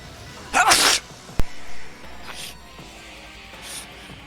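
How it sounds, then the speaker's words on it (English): A single sharp, explosive sneeze close by, followed by a few quieter breathy sounds and faint background noise. "I had a little sneeze"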